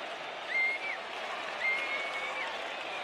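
Large stadium crowd of about forty thousand at Eden Park, New Zealand, applauding after a rugby test, a steady distant wash of clapping and cheering with a couple of brief whistles rising above it.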